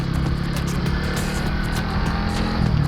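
A SKYGO Magnus 200 motorcycle engine drones loud and close throughout, its steady low growl climbing slightly in pitch near the end as the bike accelerates.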